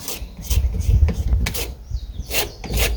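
A wooden shim being worked into place while Huber Zip sheathing goes up on an off-grid homestead build makes close, rough rubbing and scraping strokes in uneven pushes, with faint birds chirping in the background.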